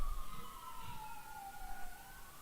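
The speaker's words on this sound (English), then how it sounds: "I hear the ambulance." An ambulance siren passes outside, a faint, distant wail that slides slowly in pitch over a low background hum.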